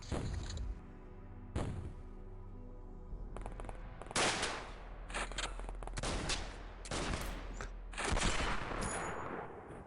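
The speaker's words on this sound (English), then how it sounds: "That was a grenade. Or maybe that was a mine." A grenade or mine blast amid sustained gunfire in the video game X-Com Files, with loud repeated bursts and sharp impacts, dense and close, dropping into brief gaps between volleys.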